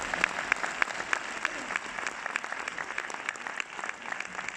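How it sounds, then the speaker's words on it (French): Audience applause at a film premiere in a cinema hall, a crowd clapping warmly with a few sharper individual claps standing out in an uneven rhythm, heard without speech. "Je vous demande de l'applaudir très fort."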